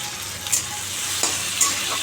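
Tomato for a chutney sizzles in a hot pan, with a steady loud hiss of frying and a few quick spoon scrapes and stirs breaking through.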